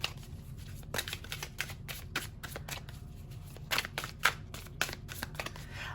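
Close, crisp riffle-and-tap bursts as a deck of oracle cards is shuffled by hand, quick irregular flutters repeating across the stretch with no talking.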